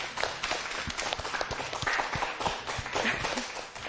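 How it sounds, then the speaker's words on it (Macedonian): A school audience at a quiz applauds a correct answer, dense rapid hand clapping from many people that carries on steadily and fairly close throughout. "Посилен аплауз."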